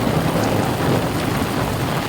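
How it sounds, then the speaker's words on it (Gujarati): Heavy rain pours down in a steady, dense roar that stays loud and unbroken from start to finish, with no voices over it. "જોઈ લો વરસાદ"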